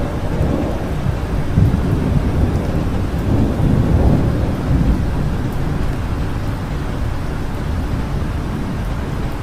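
Rolling thunder from a lightning storm, a loud, continuous low rumble with swelling peaks near the two- and four-second marks, mixed with steady rain.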